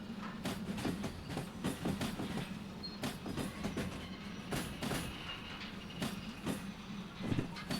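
A train runs in the railway simulator game Derail Valley, its wheels giving a steady, rhythmic clickety-clack over rail joints. A continuous low rumble sits beneath the clicks, and no voices are heard.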